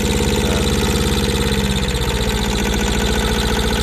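An old Japanese Yanmar two-cylinder diesel engine idles steadily at close range, a loud continuous chugging with even rhythmic pulses and mechanical rattle throughout.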